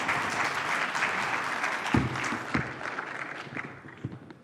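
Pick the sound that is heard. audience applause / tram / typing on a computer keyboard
audience applause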